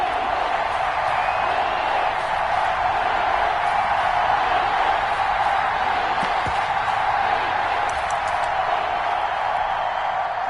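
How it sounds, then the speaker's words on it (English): Stadium crowd in a Madden football game, a steady roaring wash of cheering voices building ahead of a third-down play, continuous and fairly loud with no break. "The crowd getting into it as we come up on a big 3rd down."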